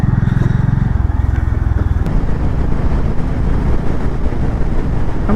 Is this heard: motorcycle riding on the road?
yes